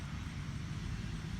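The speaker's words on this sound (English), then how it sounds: "We're close to the road, that's why you're hearing a car." A car passes on a nearby road beside a rural homestead, a continuous low rumbling drone of tire and engine noise, fairly close and steady throughout the short moment.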